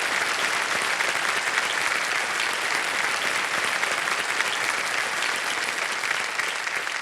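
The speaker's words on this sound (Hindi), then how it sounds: "तालियां बज जाएं इनके लिए" A studio audience on a Hindi quiz game show, Kaun Banega Crorepati, applauds a contestant with steady, dense clapping that holds at an even loudness for about seven seconds.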